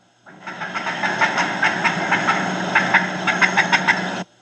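A turkey call imitating a wild turkey hen's fly-down cackle as she leaves the roost and hits the ground: a rapid, loud run of sharp, uneven clucks, close and alone, lasting about four seconds before stopping abruptly.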